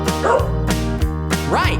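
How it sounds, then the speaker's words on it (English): A dog barks and yips in a repeated, rhythmic series, loud and close, over a steady backing of music in a children's animal song. "the dogs go as they chase and tease the cats"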